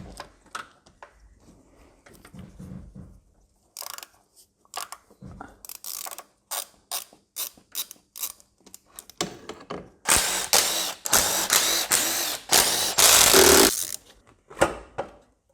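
Ratchet loosening the cam cover bolts on a BMW M51 engine from a Range Rover P38: scattered close clicks and short bursts at first, then a long, loud run of dense, fast ratcheting near the end.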